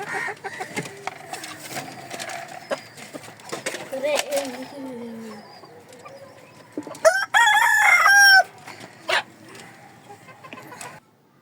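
Village chickens cluck under ongoing talk, then a rooster lets out one loud, close crow near the middle. Scattered calls follow.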